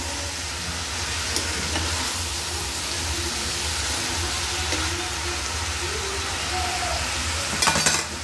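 Ivy gourd pieces go into a pan of frying prawns and are stirred, producing a constant loud sizzle with occasional scraping strokes and a final clatter near the end.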